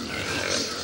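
Pigs grunting in a short, dense burst of snorts and oinks that fills the moment, fairly close and steady, with no clear talk over them.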